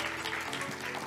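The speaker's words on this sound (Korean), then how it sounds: "다시 한번 큰 박수 부탁드립니다" Audience applause at an academic Korean studies forum session, steady clapping from a crowd, moderately loud and unbroken throughout.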